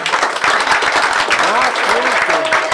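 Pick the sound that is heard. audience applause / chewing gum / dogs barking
audience applause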